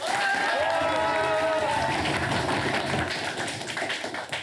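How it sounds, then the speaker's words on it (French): A studio audience on a French television entertainment show bursts into applause, with a few raised voices whooping at the start before the clapping settles into a full, even patter. "Voilà, on l'applaudit."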